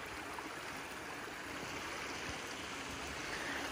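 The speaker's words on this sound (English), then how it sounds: "And here we are, the falls." Gerringong Falls, a waterfall seen from the creek below, gives a steady, soft rushing wash of falling water from some distance, continuous and even with no other sounds.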